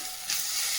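Okra and poppy seeds fry in a pan with a continuous close sizzle, briefly stirred so the hiss swells partway through.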